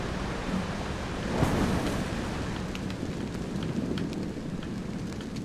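Steady rushing water from a waterfall at a cave entrance in ARK: Lost Island, a continuous broadband roar that stays even and fairly close with small surges and no talk.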